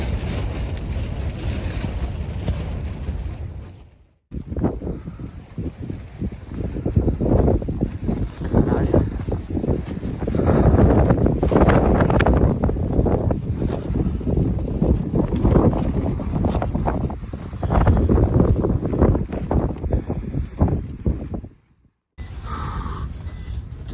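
Wind on Aconcagua mountain blows in strong, roaring gusts that rise and fall, near and loud, with two brief near-silent breaks.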